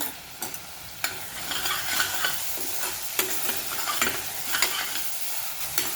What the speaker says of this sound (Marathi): छान असा खमंग हा मसाला परतून झाला